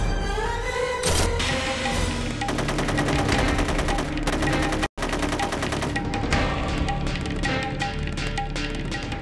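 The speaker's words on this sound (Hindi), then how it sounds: "सुनो, कम कम गोली चलाओ, एक एक गोली चलाओ।" Rapid bursts of gunfire from a shootout in a Hindi TV serial episode, loud and dense throughout, with continuous overlapping shots and a brief cut to silence near the middle before firing resumes.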